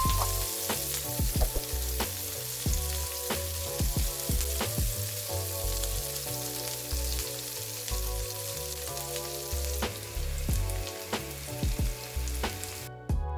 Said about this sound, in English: Add the chopped shallots to the pan and mix gently.